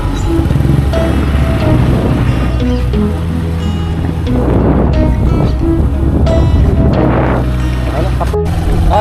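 A motorboat ride across open water toward Patayan Island in Pagbilao, Quezon, with a steady engine drone, wash of waves and gusty wind buffeting the microphone throughout, loud and close.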